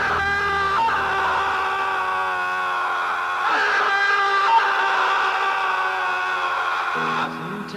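A man screams at the close of the action film Deadly Prey: a loud, sustained, strained cry that holds steady for several seconds, rising briefly near the middle before cutting off just before the end.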